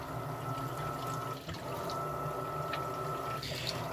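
An Electrolux LPR17 washing machine with a full load of clothes agitates its water in a continuous churning slosh over a steady motor hum, close and even throughout.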